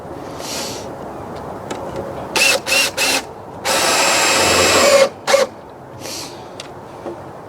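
A power drill driving the last screws into a wooden garden bed: several short loud whirring bursts, then one longer sustained drive and a final brief burst, fairly close with no talk.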